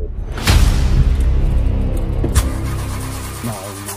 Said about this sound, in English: Start the car and drive away.